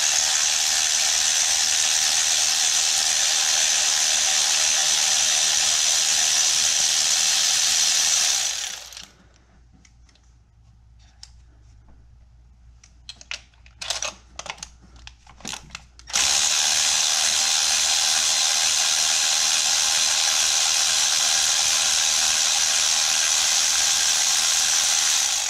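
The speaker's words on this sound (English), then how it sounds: "I've got an electric ratchet, so you break it loose." An electric ratchet whirs steadily while loosening spark plugs on a 2011-2013 E70 BMW X5 with the N55 engine, running loud for several seconds, pausing with faint clicks, then whirring again at a constant pitch.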